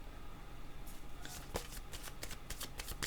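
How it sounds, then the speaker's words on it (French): Tarot cards being shuffled by hand, a run of quick papery riffles and flicks that start partway through and repeat close and crisp against a faint background. "Je vais demander juste une autre carte."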